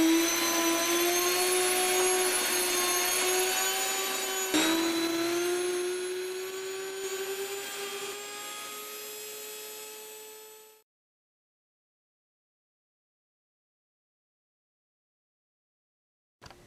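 A Nutri Grain Mill grinds grain with a loud, high-pitched motor whine that climbs slightly in pitch for about ten seconds, then cuts off abruptly into silence before a brief click at the end.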